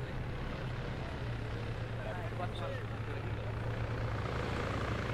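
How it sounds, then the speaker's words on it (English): Military helicopter in a combat video game, a steady low rotor drone running continuously at moderate distance under a dense rumbling engine bed, with faint voices over it. "Helo's just dropping dudes off"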